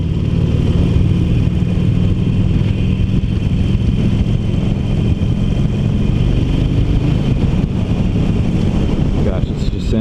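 A 2019 Harley-Davidson Iron 1200 motorcycle rumbles steadily while being ridden, a loud, continuous low engine drone with wind buffeting the microphone throughout.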